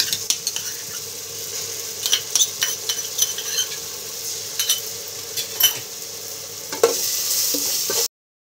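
Ginger, garlic and green chilli paste fries with reddish onions in a pan, sizzling steadily while a utensil stirs and scrapes with light clinks against the metal.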